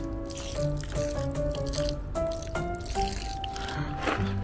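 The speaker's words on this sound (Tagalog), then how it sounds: "Didiligan muna natin siya ng tubig." Water poured onto a newly planted cutting beside a fence, heard as close, bubbling trickles and drips that gurgle steadily, with no talk.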